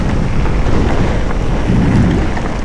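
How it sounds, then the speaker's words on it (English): Tyres of a Trek Fuel EX e-bike with a TQ HPR60 motor roll over gravel, making a loud, steady rushing crunch mixed with wind buffeting on the microphone. "barely above the sound of the tyre noise on the gravel"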